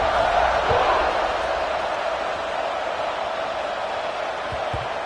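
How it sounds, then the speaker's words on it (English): A college football stadium crowd at Maryland versus Penn State, a dense, sustained roar and buzz of many voices after a score, steady and loud throughout with no single voice standing out. "this crowd is buzzing after that last score"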